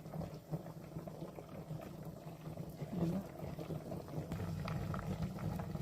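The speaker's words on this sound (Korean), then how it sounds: "자, 호박이 막 끓고 있어요." Pumpkin porridge bubbles in a pot, a soft steady simmer with gentle popping and burbling throughout, fairly quiet and close.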